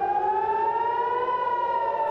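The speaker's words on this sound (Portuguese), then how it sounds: "As sirenes soaram em Jerusalém." A loud air-raid siren wails steadily with a slowly rising pitch, unbroken throughout, in Jerusalem.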